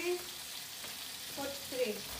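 Spanish meatballs fry in a pan with a soft, continuous sizzle, faint and steady, with a few brief tonal sounds rising over the hiss.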